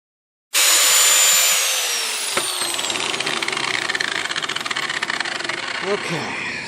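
A power tool skives a rubber round baler belt for an Alligator splice, starting abruptly with a loud, close, continuous grinding whine that holds steady with a rough, fluttering edge.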